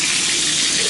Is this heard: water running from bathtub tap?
yes